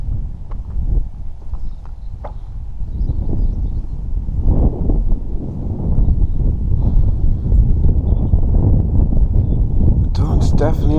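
Steady wind buffets the microphone on a night walk through the Lickey Hills, a dense low rumble that swells and holds throughout, with crunching footsteps close by and a brief brighter rustle near the end.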